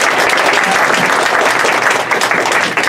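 Loud, dense audience applause at an Open House Chicago presentation, a continuous wash of many hands clapping close by for the full stretch without a break.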